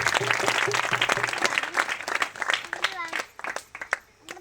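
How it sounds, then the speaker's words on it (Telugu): A church congregation breaks into a burst of applause, a close crowd of clapping hands that trails off. A voice talks over the clapping. "చప్పట్లు కొడదాం ఒకసారి"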